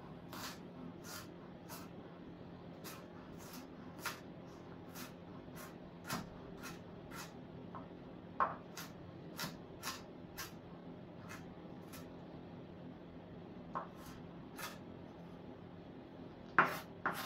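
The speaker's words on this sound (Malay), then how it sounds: "Kita iris dia kecil-kecil guys" A knife slicing petai beans into small pieces on a board, a run of sharp, evenly spaced cutting taps, close and fairly quiet against a soft background hum.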